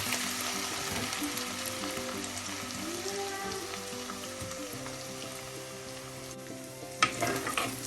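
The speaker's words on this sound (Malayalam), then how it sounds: "ഇഞ്ചി വെളുത്തുള്ളി ചായച്ചത് ചെറുതായി ഒന്ന് വഴലുമ്പോൾ" Grated ginger and garlic sautéing in hot oil in a pan for a Kerala fish chili curry, with a steady close sizzle and crackle throughout and a brief clatter of stirring near the end.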